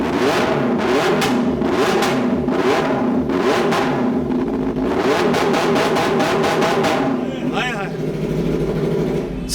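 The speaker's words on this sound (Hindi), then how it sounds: "बड़ा सुन के आया हूँ कि इस बाइक का साउंड बड़ा कमाल का है।" A Mojian NK sports bike engine revved repeatedly up close, sharp rhythmic bursts of throttle rising and falling over a rumbling idle, loud and punchy.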